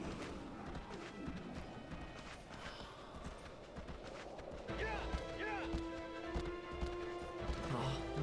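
Horse hooves clip-clopping at a steady run in the video game Shadow of the Colossus, a rapid patter of beats kept up under suspenseful music with a player talking over it.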